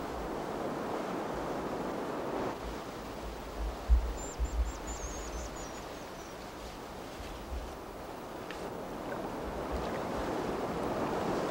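A turbulent mountain stream rushes in a steady, broadband roar with no pauses, fairly close, while a brief high bird call briefly rises above the water.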